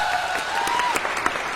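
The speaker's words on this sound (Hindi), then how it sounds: "आप क्या ताली बजाने वाले हो?" An audience at a Hindi comedy poetry gathering bursts into dense, sustained clapping that holds steady for the whole stretch, loud and close with no talk over it.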